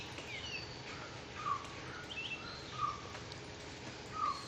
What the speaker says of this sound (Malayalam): ഇത്ര നേരം കലപില എന്നുള്ള സൗണ്ടായിരുന്നു.